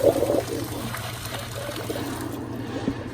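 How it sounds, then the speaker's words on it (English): Lightly salted cooking water from parboiled asparagus is dumped out of a pot, giving a splashy gush at the start that settles into a steady trickling pour close by, with no talk. "So we parboiled the asparagus for 2 minutes. And I'm going to dump it out"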